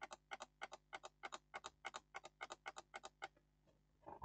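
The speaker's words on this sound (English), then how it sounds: "you can hear the switch clicking." A power switch on a dead Harwa 29-inch LED TV is pressed repeatedly, giving a quiet, steady run of about twenty sharp clicks in even rhythm, close by, before the clicking stops.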